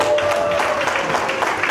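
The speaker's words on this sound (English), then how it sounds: "A round of applause." Round of applause from a convention audience at a 2018 world congress gathering, dense clapping sustained at even loudness with a faint tone and some crowd murmur underneath.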